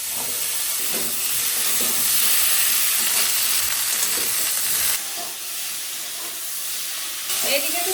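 Vegetables and freshly added bottle gourd stems fry in a pan with turmeric and salt, giving a steady, close sizzling hiss with occasional scraping stirs throughout.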